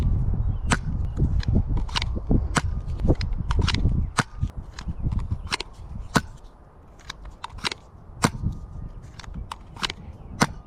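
Repeated sharp pops of a Nerf N-Series foam blaster firing shots downrange outdoors, about a dozen irregularly spaced shots over steady wind rumble.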